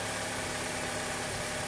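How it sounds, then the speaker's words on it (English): A Chevrolet Cavalier with an Ecotec engine idles on a cold start, giving a steady, fairly loud mechanical hum with a fine, even ticking texture and no pauses. "this is a cold start, so the engine's a little loud"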